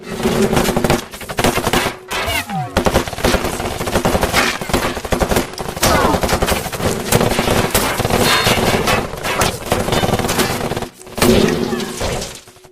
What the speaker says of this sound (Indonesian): Kemudian terjadi adu tembak di antara kedua belah pihak tersebut, yang mana dimenangkan oleh Bill dan pasukannya.